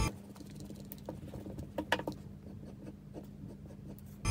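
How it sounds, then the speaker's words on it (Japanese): Pen drawing a circle and neck on paper for an origami-style paper doll, a soft faint scratching and rubbing with a few light taps, close and quiet under a steady low hum; no talking. "丸、丸を一個描いて、首を描いていきんす。"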